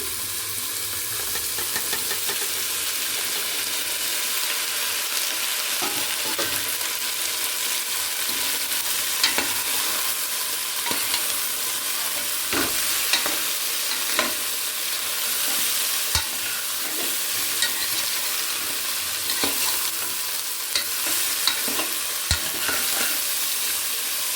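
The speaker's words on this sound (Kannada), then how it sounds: "ಅದಕ್ಕೆ ಇವಾಗ ನಾನು ಕ್ಯಾಪ್ಸಿಕಮನ್ನು ಹಾಕ್ಕೊಳ್ತೀನಿ." Capsicum frying in a pan for a capsicum potato gojju, a constant even sizzle with scattered light stirring clicks and scrapes throughout, no speech.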